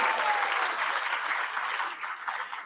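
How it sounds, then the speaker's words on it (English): An audience at a sannyasa initiation ceremony breaks into a big round of applause, dense steady clapping from a crowd, loud and sustained. "Please give yourself a big round of applause."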